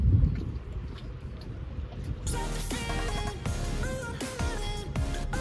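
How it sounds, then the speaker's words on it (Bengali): Tour boat cruising across a lake toward Hallstatt from Obertraun, with steady wind buffeting and engine-and-water rumble, then a brighter layer of distant chatter and tonal sounds joining partway through as the boat moves along. "এই বোটটা এখন যাচ্ছে হালস্টার্ট অবধি, আবার হালস্টার্ট থেকে ওবেট্রাউনে ব্যাক করবে।"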